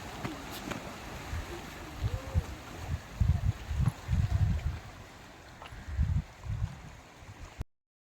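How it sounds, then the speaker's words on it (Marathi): Low, rolling wash of sea waves breaking in uneven surges on a rocky Sindhudurg coast, with wind rumbling across the microphone and a broad hiss underneath. "समुद्राचा आवाज तुम्ही ऐकलाच असेल लाटांचा"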